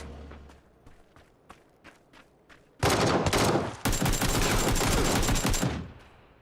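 An AK-47 fires in a video game. A few scattered single shots come first, then long, loud, dense bursts of automatic fire that cut off abruptly.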